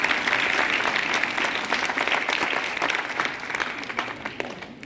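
Sustained crowd applause at the Jashn-e-Jammu Kashmir inauguration, steady dense clapping at moderate level that slowly thins toward the end.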